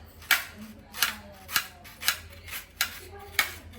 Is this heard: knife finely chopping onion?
yes